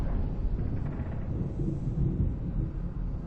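Thunder rolls through a storm in the video game Alan Wake Remastered, a loud, continuous low rumble filling the whole stretch without any talk.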